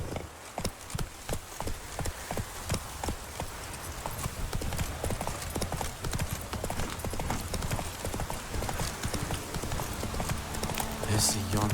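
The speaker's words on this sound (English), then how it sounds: "Whoa there, Roach" Horse hooves clip-clop steadily along a road in The Witcher 3, a brisk regular rhythm close by that runs the whole time under occasional speech and game ambience.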